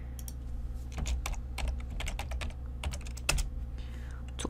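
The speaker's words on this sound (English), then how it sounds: "In here, you need to type the name of your combo box." Computer keyboard typing, a steady run of close, crisp key taps in irregular bursts over a low constant hum while entering a combo box name in Excel VBA.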